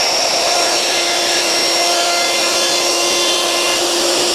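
A wood router cuts a round-over edge on an acacia river table slab, giving a loud, steady high-pitched whine with broadband cutting noise that holds unbroken throughout.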